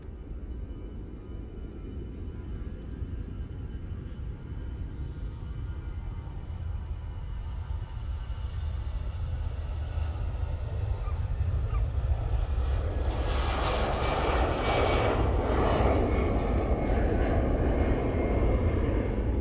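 At Manchester Airport an airliner begins its takeoff roll, engine roar rising steadily from a distant rumble to a loud, broad rush that swells toward the end.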